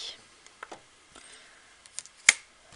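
Scissors snip paper up close for a Stampin' Up! rosace craft, a few quiet cuts ending in one sharp, louder snip.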